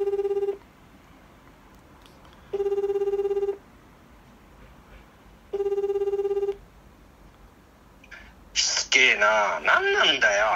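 A telephone rings back after redial, three evenly spaced electronic ring bursts with pauses between, followed by a voice answering on the line.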